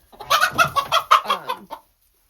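Chickens clucking in a quick, busy series of short calls, fairly close and clear, stopping abruptly near the end, during barn and goat shed cleaning.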